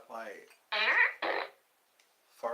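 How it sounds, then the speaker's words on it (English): A toy fart gun fires a few buzzy, squeaky fart noises in short separate bursts with pauses between them, loud and close. "fart gun"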